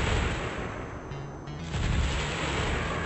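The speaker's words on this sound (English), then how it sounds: "See how fast I can destroy this oil plant." Buildings being destroyed in Warcraft 2 play as a dense, continuous barrage of overlapping booms and gunfire-like impacts, loud and steady throughout with no talk.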